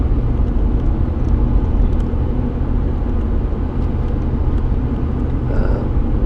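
A truck engine runs steadily after being started, a loud, close low rumble that holds even and continuous with no voices.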